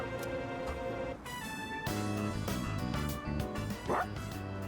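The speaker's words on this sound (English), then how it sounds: "What are you barking at," Koromaru, a dog in Persona 3 Reload, gives a few short barks and yips over game music, with a brief whimpering note near the end.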